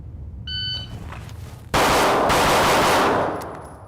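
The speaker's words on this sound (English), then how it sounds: "Draw, fire 6 rounds, going for all A zone" A pistol fitted with a Vortex Defender CCW red dot is fired six rounds in a live-fire drill. A shrill timer beep comes first, then a loud, rapid string of close shots that blur together before fading.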